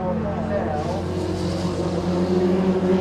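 Formula Vee race cars battle in a close pack at Donington, their engines droning steadily and loudly as several cars run nose to tail.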